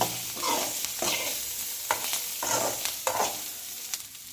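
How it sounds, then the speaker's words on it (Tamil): Ingredients for pirandai thuvayal are sautéed in a pan. Stirring scrapes come in an irregular rhythm over a soft, low sizzle, close by and quiet, with no voices. "எல்லாமே நல்லா வதங்குற அளவுக்கு நல்லா இப்படி வதக்கி விட்டுக்கலாம்"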